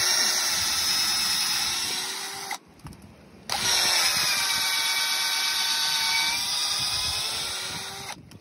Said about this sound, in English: And I'm gonna drill a hole.